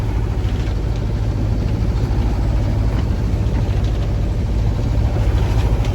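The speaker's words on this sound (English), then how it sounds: "I'm presently doing 5 knots, 1500 revs on the engine, so that's ticking over nicely" A sailboat's engine idles at 1500 revs while motoring at about five knots, a steady, loud low-pitched drone with a continuous rumble and no talking.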